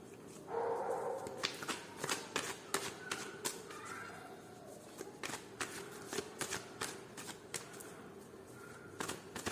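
Tarot cards being shuffled by hand on a table, a dense run of crisp riffling flicks and soft slaps repeating steadily throughout, close and moderately loud with no talking.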